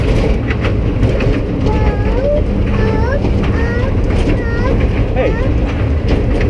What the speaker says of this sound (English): No, it's just a train.